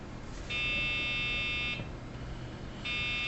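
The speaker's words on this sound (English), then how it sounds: "just give you 4 beeps that sound very similar, straight off the speaker on the motherboard" A PC motherboard speaker sounds its memory-error POST code: steady electronic beeps, one long tone and the start of another after a short gap, clear and close.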